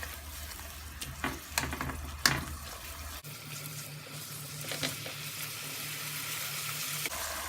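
Ketchup, salt and chilli powder frying in a pan for a spicy buffalo chicken wings sauce, heard as a soft, close sizzle with a few clanks of stirring early on and a low hum beneath.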